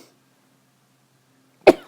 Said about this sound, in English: That was a sneeze, not a cough.